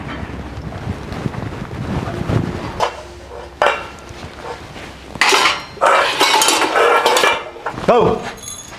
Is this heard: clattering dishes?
yes